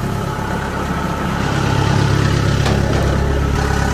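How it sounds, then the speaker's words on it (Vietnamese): A used rice combine harvester engine idles up close, a steady unbroken diesel-like rumble holding at a constant level for the whole stretch, with no talk over it. "Em xuống quay cái động cơ nha."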